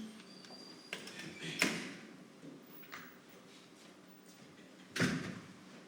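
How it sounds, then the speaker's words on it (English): A classroom door being closed: a couple of muffled thuds and knocks in a quiet room, with light rustling between them. "Can you close the door just in case?"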